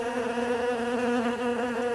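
A blue-banded bee buzzes its wings at a flower in Taiwan, a steady, close, droning hum that holds without a break.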